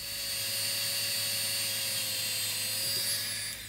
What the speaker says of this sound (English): I'm just going to take a Dremel and try to clean off the contact a little bit